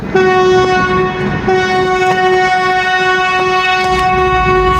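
Loud, sustained horn blast from the Hazara Express passenger train as it departs, a steady harmonic tone held for several seconds close by, with faint rail clatter underneath.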